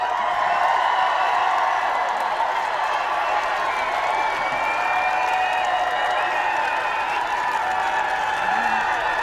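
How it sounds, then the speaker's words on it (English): A live studio audience applauds and cheers for a guest, with sustained clapping, a few whoops and a bright musical tone running underneath. "Let's give her a round of applause."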